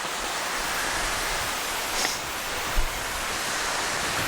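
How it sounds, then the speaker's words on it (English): Steady broadband rush of a waterfall heard from the top of the falls on a hiking trail at Hanging Rock State Park, North Carolina, continuous and fairly close with a couple of faint bumps. "Still at the top of the waterfall here."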